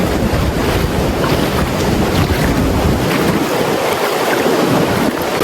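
Constant loud rush of wind and surf, with waves washing continuously and wind buffeting the microphone; no voices.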